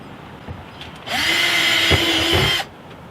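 A close power drill boring holes through plastic during a hose reel installation, one continuous whirring run of about one and a half seconds that starts and stops sharply, with no voices.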